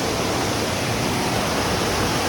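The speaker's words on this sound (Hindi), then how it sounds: "ସେଇଟା ହେଲା ୱାଟରଫଲଟା।" Chaulibhaja waterfall in Mayurbhanj roars as a steady, loud wash of rushing water, continuous and unbroken, with no voices over it.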